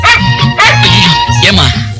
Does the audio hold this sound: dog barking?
yes